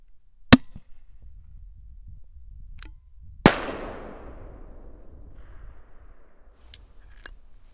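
A Taginn ML-36 40mm paintball/airsoft grenade launcher fires two sharp, loud bangs a few seconds apart, the second ringing out with a decaying echo, followed by faint clicks in an otherwise quiet space.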